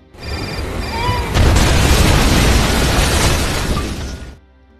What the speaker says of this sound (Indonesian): Ketika Riley sudah pergi cukup jauh, ia pun segera meledakkan rumah tersebut.